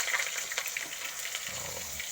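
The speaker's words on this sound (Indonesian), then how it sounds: "Oh, goreng tahu." Tofu, Jombang-style, frying in a pan, a steady broadband sizzle and crackle throughout with faint low clatter toward the end, no voices.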